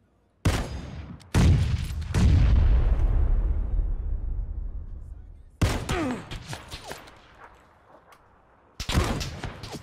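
Several loud booming blasts from a grenade in the battle royale game PUBG, each sharp onset trailing into a long rumbling decay, spaced apart across the stretch with short gaps of quiet between.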